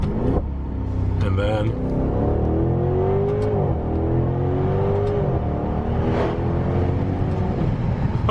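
A 2019 Maserati Levante GTS engine is heard from inside the cabin with a window cracked. It rumbles steadily with several rising-and-falling pitch sweeps as the car downshifts, while someone speaks over it.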